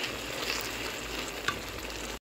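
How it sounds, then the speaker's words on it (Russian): Beef in a starch-thickened sauce sizzles quietly in a hot pan while being stirred, a steady low crackle with one small clink, no voices. "Выливаем. И тут же хорошо все перемешиваем."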